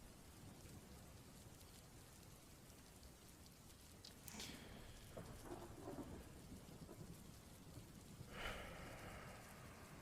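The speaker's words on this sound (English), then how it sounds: "Feet moving as the rain has not stopped." Heavy rain falls steadily on surfaces, a constant wash of drops, while thunder rumbles and cracks twice, once near the middle and again near the end, with no talk.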